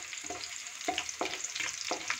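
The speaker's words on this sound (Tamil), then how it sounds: "இப்போ பார்த்தீங்கன்னா சின்ன வெங்காயம் ஓரளவு வதங்கிடுச்சு." Shallots frying in a pan for a fish curry with raw mango, a soft continuous sizzle broken by about five rhythmic stirring scrapes, close and moderately quiet with no talking.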